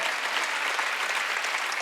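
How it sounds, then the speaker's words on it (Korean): A church congregation at an Easter Sunday service claps steadily, a dense, even wall of applause with no talk over it. "박수로 하나님께 영광 돌려라"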